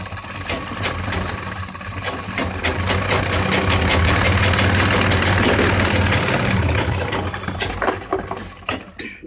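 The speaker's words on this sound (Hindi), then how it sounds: "इसी तरीके से दूसरी फलाई पे हम सिलाई लगाएंगे।" Sewing machine running steadily while stitching the second fly of a pair of trousers, a continuous loud mechanical whir with a low motor hum, slowing and trailing off near the end, no talking.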